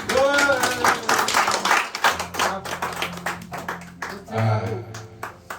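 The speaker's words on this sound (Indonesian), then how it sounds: "Kita tepuk tangan dulu untuk." A small group claps in sparse, uneven bursts of hand claps while a person speaks and music plays underneath.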